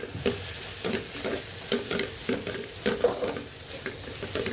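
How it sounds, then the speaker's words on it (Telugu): Gongura leaves frying in hot oil for pickle, a soft continuous sizzle broken by regular scraping stirs of a spoon in the pan, close and moderately quiet. "ఇదిగండి గోంగూర వేపాలి ఆయిల్లో."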